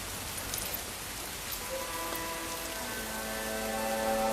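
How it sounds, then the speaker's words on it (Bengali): Steady rain pours down, a dense even hiss filling the scene, with faint tonal music rising underneath toward the end. "তোমার সন্তানের পবিত্র আগমনে এই অঞ্চলে বৃষ্টি বর্ষিত হলো।"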